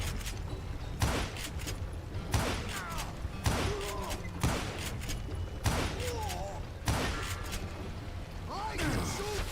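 Gunshots in the Western shooter Call of Juarez Gunslinger ring out as sharp, punchy cracks about every second and a half, each trailing off, with voices talking in between and over them.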